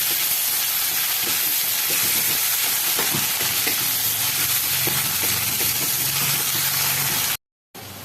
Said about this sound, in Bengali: এবার এটাকে আমি একটু ভেজে নেব।